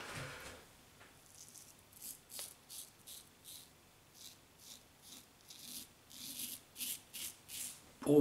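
Soft rhythmic scraping strokes of a Hyperion stainless steel double-edge safety razor shaving stubble, close and quiet, repeated about a dozen times in a steady pattern with no speech.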